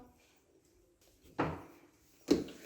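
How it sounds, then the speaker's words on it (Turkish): A door in a home is pushed shut, giving two dull knocks about a second apart, fairly close but soft against a quiet room. "Kapatıyorum kapıyı."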